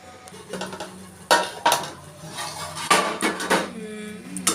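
A metal lid clinks and clatters onto a cooking pot of rava kesari in a home kitchen, several sharp metallic knocks spaced apart over a quiet background, ending with a ringing scrape.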